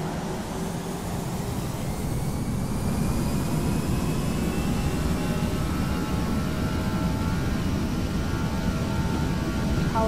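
Airbus A320 jet engines spool up for takeoff in Flight Simulator X, a steady, loud roar with a rising whine that holds throughout, without speech.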